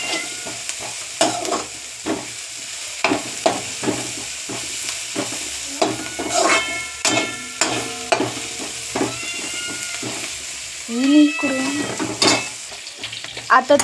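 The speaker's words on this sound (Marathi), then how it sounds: "आणि ते चांगले मिश्रण करून घ्यायचं." A mixture being stirred in a frying pan, with repeated scraping strokes of a spoon against the pan over a steady, soft sizzle, close and clear, with no talking.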